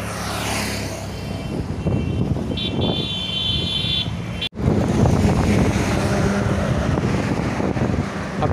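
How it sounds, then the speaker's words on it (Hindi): Cool wind buffets the microphone on a mountain road during a motorcycle ride from Nalasopara to Pune, a loud continuous rush with a brief cutout midway, no talk. "ठंडी ठंडी हवा बह रही है।"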